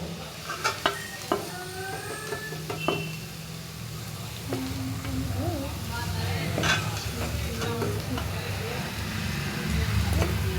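Cauliflower pakoda deep-frying in hot oil, a steady crackling sizzle running throughout with a few sharp clinks and scrapes of stirring early on, while a voice speaks intermittently over it.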